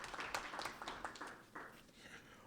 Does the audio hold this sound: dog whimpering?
no